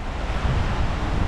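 Strong, rushing river water after a typhoon, flowing out past a pier toward the sea; a dense, continuous roar with wind buffeting the microphone and no speech.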